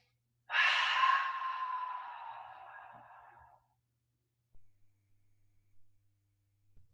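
Deep breathing during a yoga session, one long, loud exhale easing off over about three seconds, close to the microphone, followed by near silence with faint soft movement.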